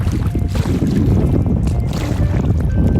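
Strong wind buffets the microphone while choppy whitecap waves slap against a kayak on rough water at Carvins Cove, a loud, continuous rumble with no talking.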